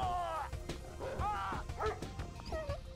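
Attack dogs from the Red Alert 2: Yuri's Revenge strategy game bark and yip in quick, overlapping bursts, close and loud, with whimpering rises between barks over a steady background.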